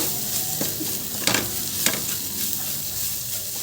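Greens with garlic frying in a pan while being stirred, a steady sizzle broken by a few sharp scrapes of the spoon against the pan, close and alone.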